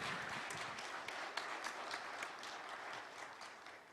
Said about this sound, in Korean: 박수 보내주시기 바라겠습니다